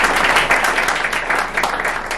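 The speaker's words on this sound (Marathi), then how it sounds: "सगळ्यांनी एकदा टाळ्या वाजवून" An audience breaks into steady applause at a 50th birthday celebration, dense continuous clapping from many hands filling the room, loud and even throughout.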